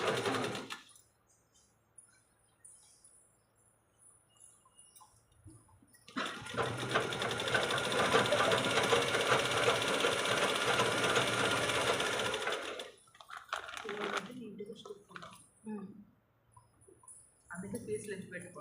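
A sewing machine runs in one sustained burst of about six seconds, close and clear, with softer stops and starts around it as a person talks before and after the stitching.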